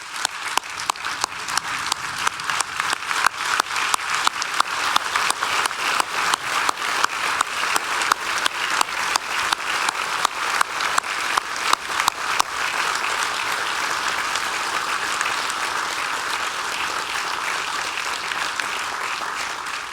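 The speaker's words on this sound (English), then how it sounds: "give a generous round of applause to the governor, the lieutenant governor, executive branch of government" An audience at Governor Doug Burgum's 2024 State of the State Address claps in a loud, rhythmic unison beat that settles into a sustained, even ovation of many hands.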